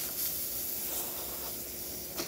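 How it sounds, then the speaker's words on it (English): The steam wand of a Breville Bambino Plus espresso machine hisses with a steady, bright, airy rush that holds strong and even throughout, close by and alone. "good pressure coming out from the wand."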